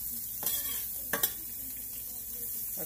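Oil heating in a frying pan before cooking small silver dollar pancakes, giving a quiet steady hiss with a few brief scraping clinks of a utensil against the pan.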